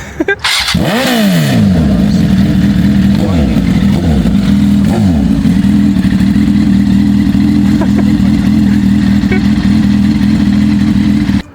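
Motorcycle engine on a street in Rize, loud and close, starting with a sharp rev that sweeps up and down before settling into a steady, rough idle that runs to the end.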